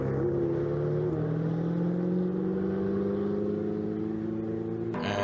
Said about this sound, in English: And there is the Chris Froggatt number 93 car,